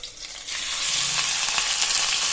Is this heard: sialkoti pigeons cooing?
no